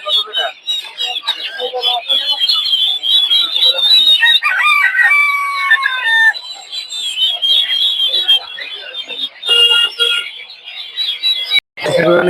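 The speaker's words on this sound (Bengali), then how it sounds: "দেখতে পাচ্ছি দেশি মুরগি সব" A dense chorus of chickens clucking and roosters crowing loudly and continuously, with people talking among them at the Tongi poultry market, where local hens, ducks and quail are sold.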